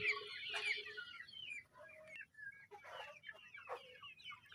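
Bahama chickens cluck and call in a quiet yard, with several short, separate clucks and squawks spread unevenly across a few seconds, faint and close, with no one talking.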